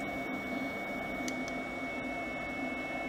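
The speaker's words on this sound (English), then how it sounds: "it's got a pretty loud motor and a pretty loud fan" An Elegoo Mars 2 Pro resin printer runs with its loud motor and cooling fan, giving a steady, close mechanical hum and whir with a couple of faint ticks.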